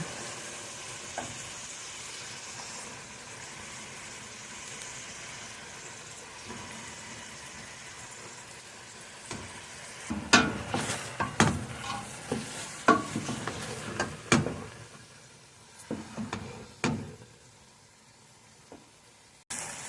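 Okra goes into a pot of cooking tomato for Nigerian okra soup, with a quiet simmering sizzle at first, then a burst of close scraping, clattering stirring strokes in irregular rhythm before it settles again.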